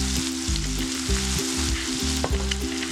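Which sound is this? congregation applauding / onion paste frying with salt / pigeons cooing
onion paste frying with salt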